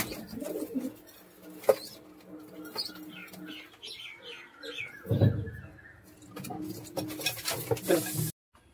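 A pair of Andhra Madras pigeons coo and chirp at a moderate distance, with scattered bird calls, a low burst of cooing midway and some background voices and movement.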